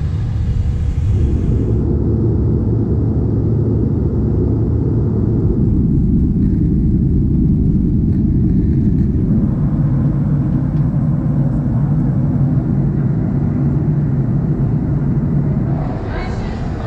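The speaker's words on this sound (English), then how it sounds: "On the plane." Steady airplane cabin noise during flight: a deep, even engine rumble and airflow drone that holds constant and loud throughout, with no distinct events standing out.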